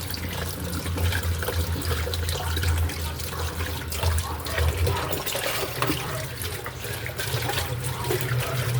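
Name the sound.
pakbet vegetables boiling in water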